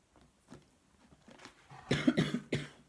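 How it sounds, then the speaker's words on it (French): A woman coughs several times, starting faintly and building to a cluster of louder, harsher coughs near the end, with no talking. "C'est toujours quand je fais la guidance que je me mets à tousser."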